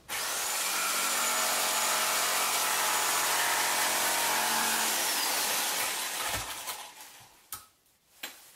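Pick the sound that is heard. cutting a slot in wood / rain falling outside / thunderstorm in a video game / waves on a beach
cutting a slot in wood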